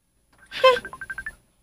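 A cellphone rings in a Cebuano radio drama, a short bright electronic ringtone of rapid repeating beeps heard close and clear against silence.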